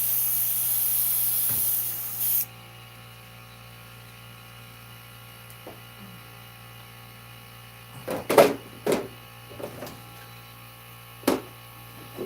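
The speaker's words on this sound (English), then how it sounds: "So I am just spraying it through." A spray bottle misting water over a painting on synthetic paper, one steady hiss lasting a couple of seconds, then quiet with a few short clicks and taps later.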